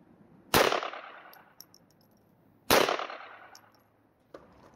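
Two loud gunshots fired at an outdoor shooting range, each a sharp blast followed by a short decaying echo, about two seconds apart, with a faint clink near the end.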